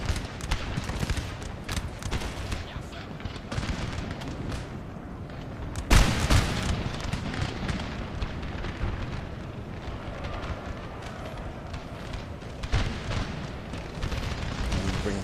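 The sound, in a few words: cannon artillery barrage in the video game Napoleon Total War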